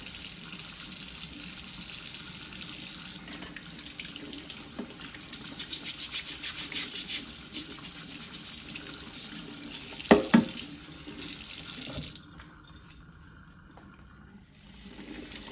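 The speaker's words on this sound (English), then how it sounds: "now we have washed all the potatoes" Potatoes being washed under a running kitchen faucet, water streaming steadily into a sink with brief splashes and knocks, close and continuous until the tap shuts off near the end.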